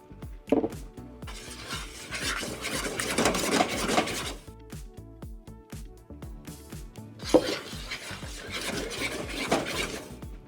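Sauce is added to a hot pan of clams and spaghetti, giving a run of clattering metal-on-pan scrapes and clinks with bursts of sizzling noise, close and fairly loud, with no talk.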